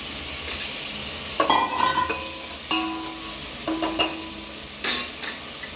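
Onions frying in a pan with salt and turmeric are stirred by a spoon, giving a steady close sizzle broken by several scraping stirs and clinks against the pan, with no talking.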